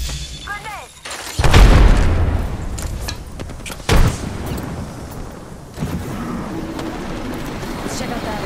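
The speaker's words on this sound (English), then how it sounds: "Heads up. Grenade." A grenade blast in the Apex Legends battle royale shooter lands as one loud low boom, followed by a rumbling tail, smaller impacts and scattered gunfire, while a game announcer voice speaks early on.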